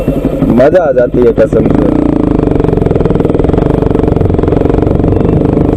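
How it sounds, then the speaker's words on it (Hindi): A Bajaj Pulsar 200 NS motorcycle engine runs with a steady pulsing bass exhaust rumble, loud and close, after someone speaks briefly over it at the start. "जब बाइक स्टार्ट होती है डुक डुक डुक डुक डुक डुक जो बेस आता है"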